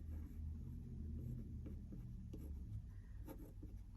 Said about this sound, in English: So I'm gonna write